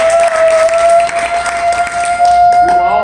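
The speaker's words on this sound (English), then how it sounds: "All y'all should be clapping" A campus ministry audience claps and cheers at a spoken word performance, loud crowd noise with a sustained whistle-like tone running through it, voices mixed in.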